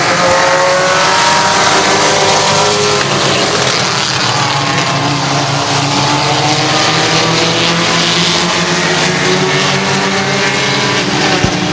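Race cars roar around the oval at Hudson Speedway in New Hampshire, engines loud and sustained as several pass close by, their pitch rising and falling through the corners without a break.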